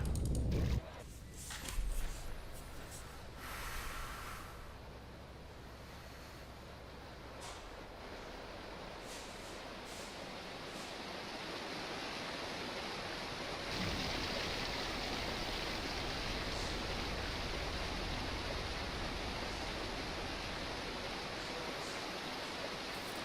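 A water slide in the video game Roller Coaster Tycoon 3 gives a steady rushing, splashing wash of water noise, faint and continuous, with a few mechanical clicks near the start.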